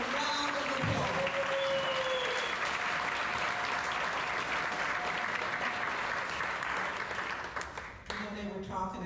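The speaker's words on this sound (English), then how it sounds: "Let's give Commissioner Gwen Myers a round of applause." An audience at a community event in Tampa applauds Commissioner Gwen Myers, steady sustained clapping filling the room for about eight seconds, with some talk and music-like tones mixed in before it thins near the end.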